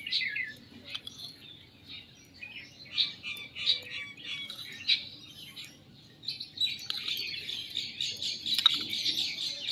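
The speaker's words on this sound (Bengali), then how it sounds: "আপনারা যে শব্দ শুনতে পাচ্ছেন, এটা সব পাখির শব্দ।" Several birds chirp and squawk nearby on a rooftop in quick, overlapping bursts, a busy outdoor chorus with a low background hum.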